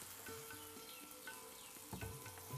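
Potato and paneer batter poured by the spoonful into a moderately hot pan, giving a soft, steady sizzle with faint scraping, quiet and close, no talking.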